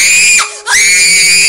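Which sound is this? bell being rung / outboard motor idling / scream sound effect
scream sound effect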